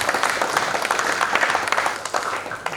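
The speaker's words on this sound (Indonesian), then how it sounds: "Berikan tepuk tangan buat Tuhan Yesus." Worshippers in a church clap for Jesus, a loud, close burst of applause with sharp individual claps standing out from the crowd, sustained briefly without any speech.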